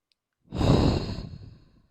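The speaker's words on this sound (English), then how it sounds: "Let's take a deep breath, relaxing the shoulders." During a beginner morning yoga sequence, a person takes one deep breath, close and airy, swelling quickly and then fading out slowly over about a second and a half.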